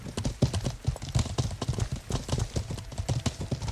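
Horse hooves clip-clop in the medieval video game Life is Feudal, a steady run of close, crisp hoof strikes with a faint whinny and no voices over it.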